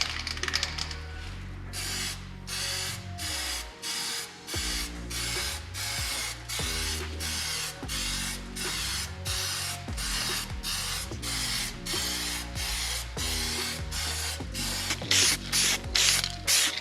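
A BMW E46 rear axle is spray painted inside a paint booth, the spray gun hissing in steady, evenly spaced bursts that repeat throughout, with mechanical clicks and a low hum underneath.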